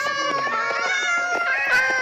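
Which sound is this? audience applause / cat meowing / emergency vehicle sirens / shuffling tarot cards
cat meowing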